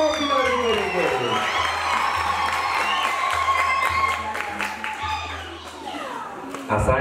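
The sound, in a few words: wedding guests applauding and ululating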